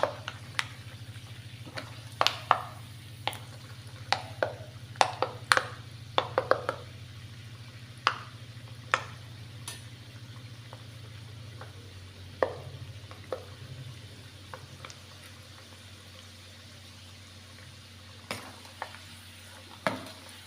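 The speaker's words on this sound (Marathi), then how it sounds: "शेंगदाणे चांगले खरपूस करून घ्यायचे आहेत" Peanuts and coconut frying in a pan for a thin poha chivda snack, with a steady low sizzle underneath and repeated sharp scraping clicks of a spatula stirring, busier at first and sparser later.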